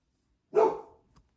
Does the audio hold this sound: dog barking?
yes